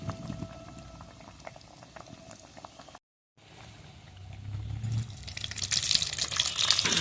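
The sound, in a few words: fish cutlets deep-frying in oil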